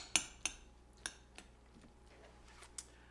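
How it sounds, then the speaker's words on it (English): Cubed butter drops into a bowl of hot pasta for small-batch Southern macaroni and cheese: a quiet series of sharp, scattered clicks and light clinks, about seven over a few seconds, with no talking. "let's go ahead and add in that cubed butter that we did earlier"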